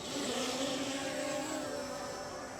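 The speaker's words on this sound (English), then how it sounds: "in order to actually start the motors on the drone, you need to take both of the sticks and lower them to the lower inside corners" Ruko F11 Pro beginner drone motors spinning up steadily, a continuous close whine holding at an even level with no talk.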